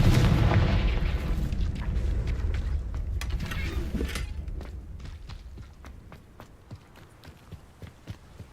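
A Confringo blasting spell explodes in the video game Hogwarts Legacy, a heavy boom up front that rumbles and fades into quieter creaks and footsteps.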